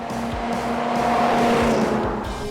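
A Ford Crown Victoria roars past at speed on a racetrack, engine pitch climbing, with tires squealing over the steady loud rush; no talking.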